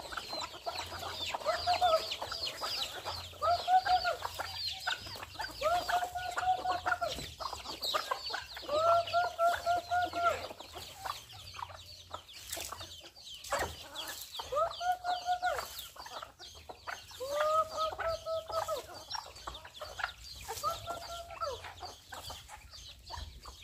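Chickens cluck in repeated short bursts at a farmyard, a fairly close, steady pattern over a continuous background hum, with no talk.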